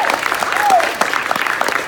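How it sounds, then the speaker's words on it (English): Audience applause at an outdoor film festival panel, a dense wash of clapping that swells and holds steady throughout, with a brief voice cutting through near the start. "can we get a big round of applause for"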